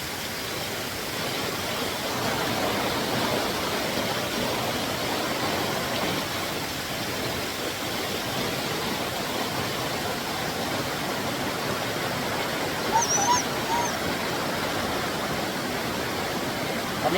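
A mountain stream rushes in a continuous, even wash of flowing water that stays steady throughout, with a faint, brief chirp rising above it late on.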